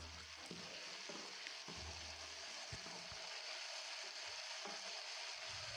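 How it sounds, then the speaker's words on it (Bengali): Chopped tomato fries in spice paste for potato curry, a soft, steady sizzle with occasional light taps of a spatula stirring in the pan. "টমেটোটা মোটামুটি একটু ভাজা হয়ে গেছে"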